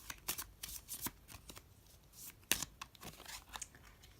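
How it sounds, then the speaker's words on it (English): A small deck of tarot cards being shuffled close by, with soft irregular riffles and snaps that come in quick bursts, heard alone in a quiet room. "It's like so weird just like shuffling not that many cards."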